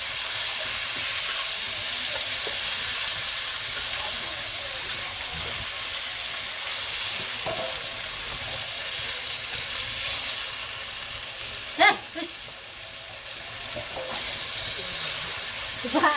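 Hot oil sizzling and frying in a pan, a steady broad hiss throughout with a single sharp knock partway through.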